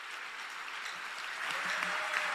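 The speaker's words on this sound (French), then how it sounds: "Ce sont des gens qui applaudissent pour toi." Church congregation in Orlando clapping, a thick, sustained roar of many hands applauding that swells slightly louder partway through, with faint voices underneath.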